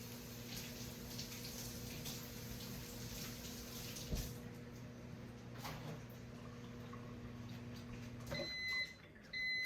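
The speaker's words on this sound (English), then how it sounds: "Let me just rinse this off." Water runs steadily from a kitchen tap to rinse something, a faint continuous hiss under a low hum, with a few clunks and a short electronic beep near the end.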